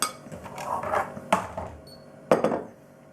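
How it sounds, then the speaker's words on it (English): Sourdough pizza dough ingredients, including white flour, are mixed in a bowl: a utensil scrapes and clinks against the bowl in a few close, uneven strokes, with sharp knocks near the middle and end. "I'm just going to mix these ingredients together quickly"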